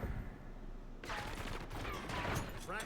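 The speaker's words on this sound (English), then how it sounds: "You switch over to the Grekhova and then just shred them." Grekhova pistol fire in a video game: after a quiet first second, dense rapid bursts of automatic gunshots rattle on steadily and loudly to the end.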